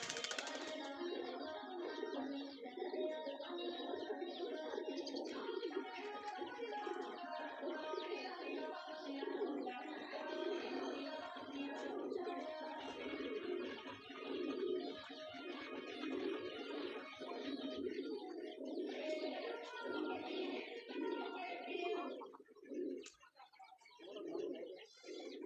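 Pigeons feeding on sand and soil outdoors alongside chickens keep up a continuous crowded murmur of cooing and chirping, steady at mid distance, thinning briefly near the end.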